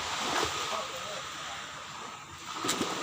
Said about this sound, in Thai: ได้ยินเสียงคลื่น